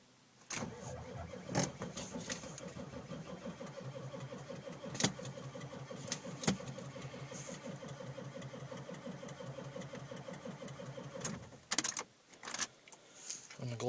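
A 1995 Ford F-350 with a Power Stroke diesel engine cold-starts on a cold day, cranking and then chugging into a rough, rhythmic idle with sharp clacks, recorded close and fairly quiet.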